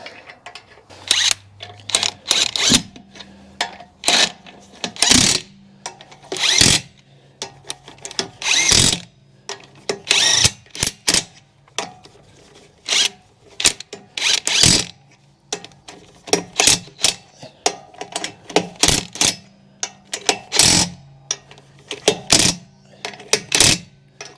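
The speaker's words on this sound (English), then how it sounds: "we'll lightly put them on with the impact, and then we'll come back and torque them with a torque wrench" An impact wrench runs lug nuts onto wheel studs while a wheel spacer and stud kit is fitted to a Sprinter van. Loud, rattling bursts come one after another with short pauses between them, close up and with no talking.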